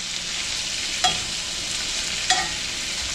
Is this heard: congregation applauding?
no